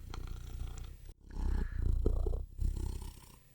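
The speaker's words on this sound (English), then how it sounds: "That's some loud purring." A cat purring loudly and close, a rumbling vibration that rises and falls with each breath, with a brief pause partway through.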